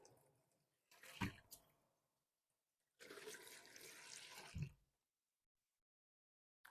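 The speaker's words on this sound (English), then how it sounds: "Using a barrier, I'm going to turn on my water." A faucet is turned on for a partial bed bath, giving two bursts of broadband rushing water, a short one followed by a longer steady flow of about two seconds that then stops, alone without talk.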